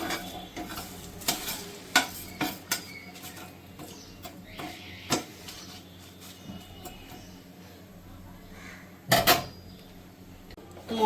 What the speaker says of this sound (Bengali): তা দেখুন আমি এটাকে ভেজে নিচ্ছি।